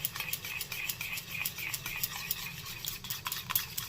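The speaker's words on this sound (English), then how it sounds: "It will just take a while to whisk everything together." A whisk beats lemon yogurt and curd together in a bowl, producing quick, steady scraping and clinking strokes up close in a regular rhythm, with no voices.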